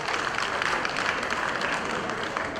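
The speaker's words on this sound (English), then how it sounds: "One more round of applause for this wonderful dance and other artists over the stage" A crowd applauds a stage dance performance, with dense, steady clapping that holds an even level throughout at a moderate distance, with no voices standing out.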